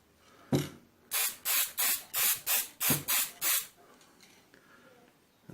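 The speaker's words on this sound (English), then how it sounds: "I'm doing this lacquer clean, this clear spray" Clear lacquer sprayed from an aerosol can onto a restored Tonka toy truck: one short burst, then eight even hissing bursts in a steady rhythm, close and loud, with no talking.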